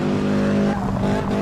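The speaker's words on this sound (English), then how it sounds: "this car has that sort of that low grumble sound" A Porsche 718 Cayman S engine in the game Assetto Corsa rumbles with a low, steady grumble, loud and close, with a brief tire-squeal-like edge.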